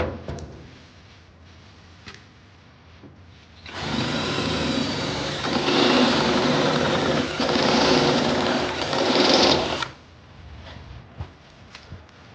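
A drill bores holes through a vehicle body for a mirror bracket, a loud steady whine running about six seconds between quieter stretches with faint clicks and handling noise.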